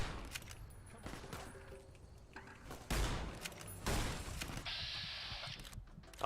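Gunfire from Fallout: New Vegas, fired from behind a rock in combat, a mix of sharp shots and a couple of loud bursts over a busy game background, fairly faint overall.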